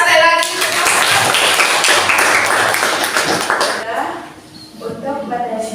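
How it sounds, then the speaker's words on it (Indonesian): Classroom applause from students in a teaching-practice lesson, a dense wash of clapping that fades after a few seconds, followed by a voice speaking. "Tepuk tangan sekali lagi"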